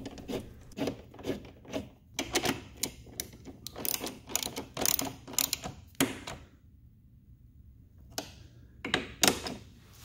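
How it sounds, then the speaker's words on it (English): A 10 mm socket wrench tightens the passenger grab rail bolts on a 2018 Honda Goldwing, with close, quick ratcheting bursts repeating in short runs, a quiet pause, then a few more clicks. "now I'm just going to tighten it down with the 10 millimeter socket"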